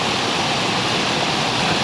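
River water flowing steadily at a bathing spot, a loud, close, unbroken rushing wash with no voices.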